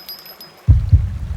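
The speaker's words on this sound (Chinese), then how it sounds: "心跳声。" An animated heartbeat effect: after a brief near-silence, two deep, thudding beats land close and loud, followed by a low throbbing hum.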